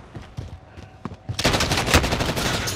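Bursts of automatic gunfire in Call of Duty Modern Warfare, scattered single shots at first, then a loud sustained rattle of rapid fire close by.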